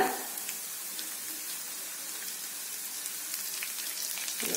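Cashews and curry leaves frying in hot oil for a tempering, a soft continuous sizzle and crackle heard close and fairly quiet, with no talking.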